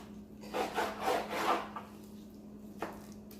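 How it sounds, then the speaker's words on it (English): A knife sawing through a rack of pork ribs to square it off, three rasping back-and-forth strokes close up, then a single short scrape, with no speech. "I do still like to square off my ribs a little bit"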